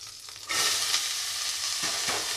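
Green chillies and nigella seeds hit hot oil with a sudden loud sizzle that holds steady and bright, with a couple of soft stirring scrapes near the end.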